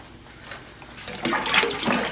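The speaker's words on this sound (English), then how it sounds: "So right here we're pouring in 12 pounds of olive oil" Twelve pounds of olive oil pours from large six-pound jugs into a container for lavender cold process soap, a soft glugging stream that starts quietly and swells into a louder, steady rushing pour.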